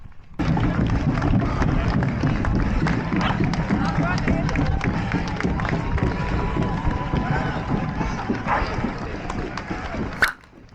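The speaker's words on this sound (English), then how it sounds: "Some welcome cheer there for W Mills" Crowd cheering and clapping for a runner in the Hastings Half marathon, steady and close, mixed with footsteps and voices for about ten seconds before cutting off.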